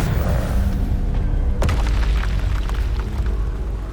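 Expelliarmus spell cast in Hogwarts Legacy: a heavy rumbling whoosh with a sharp crack about midway, loud and close, with no voices over it.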